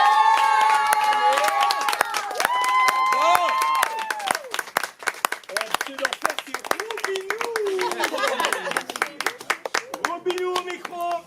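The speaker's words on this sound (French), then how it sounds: "les premières fois, ça s'applaudit 2 fois plus" Audience at a slam poetry night in Vence claps and cheers for a first-time performer, a lively burst of many hands with whoops and scattered voices, sustained and then thinning toward the end.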